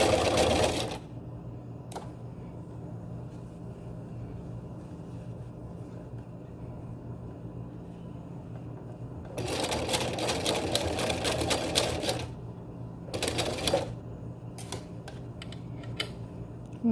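Domestic sewing machine running a crotch seam in clothing, with short close bursts of rapid stitching separated by pauses, and a quiet hum in between.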